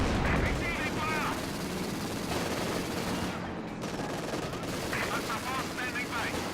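Gunfire and explosions from the Company of Heroes 2 strategy game, continuous rattling bursts and booming blasts throughout, loud and dense.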